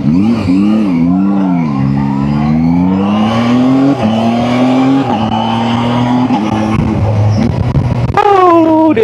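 A Zontes 703F motorcycle ridden with its stock silencer still closed: a steady, close engine and exhaust drone climbs through the revs, dips at a few gear changes, then surges sharply near the end.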